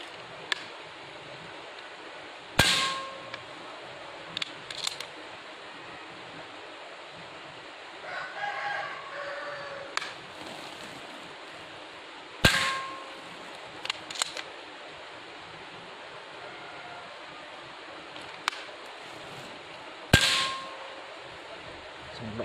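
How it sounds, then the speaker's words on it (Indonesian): Three sharp impacts of suppressed Mauser air rifle pellets striking a wall at close range, spaced several seconds apart, with faint clicks and roosters crowing in the distance. "Cuma hitnya di sana kedengaran banget, hitnya di tembok meskipun jarak dekat."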